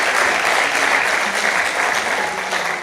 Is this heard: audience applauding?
yes